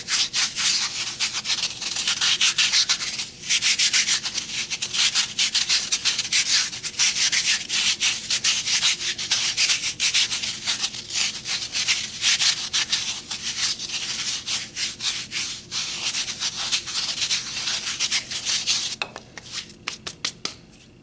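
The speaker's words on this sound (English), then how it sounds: "you can just use the palm of your hand to shape the bottom into kind of a bowl shape. You can rub the corners off." A palm of a hand rubs and smooths the corners of a paper mache shape, giving a steady, close, dry scraping rub that carries on for about twenty seconds before tapering off.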